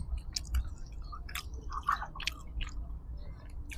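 Mouth sounds of eating a large piece of mixed pork, soft and meltingly tender. Close, moist chewing and smacking recurs irregularly for a few seconds over a low background rumble, with no talk.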